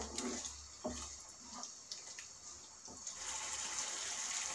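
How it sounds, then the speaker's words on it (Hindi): Water being poured into a simmering paneer curry gravy in a pan, a faint, steady gushing splash with soft bubbling, moderately distant and fairly quiet, with no one talking. "इसमें हम थोड़ा सा और पानी ऐड करेंगे।"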